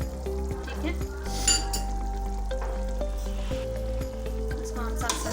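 Goat meat and potatoes with garam masala sizzling in a pot, steady frying hiss with metal spoon scrapes and clinks as the mixture is stirred, close and fairly loud.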